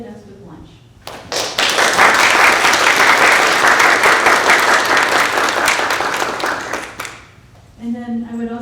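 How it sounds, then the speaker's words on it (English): An audience claps for a student development committee at a biotech alumni panel, a dense, loud burst of applause lasting about six seconds before fading, with talk heard before and after. "please give a round of applause for the Student Development Committee of the Boston Area ISPE"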